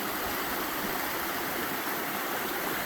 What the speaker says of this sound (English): Lots of snow melting, creating rivers, flowing underneath the snow on the sides.